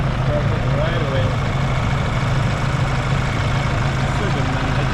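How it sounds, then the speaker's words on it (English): A 2018 Ford Raptor truck's engine idles just after starting, a steady low rumble with a constant drone, loud and close and holding evenly without revving. "Ignition on. Oh yeah, started right away."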